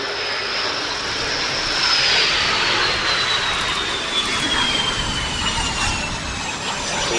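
Swedish Air Force Saab JAS-39C Gripen fighter jet coming in for a short landing at an air show, a loud continuous jet roar with a falling whine, close and steady throughout, no voices.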